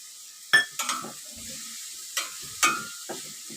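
Dill greens and moong dal stirred into browned fried onion in a pan, giving a few scraping, clattering stirs with brief sizzle bursts between quieter gaps.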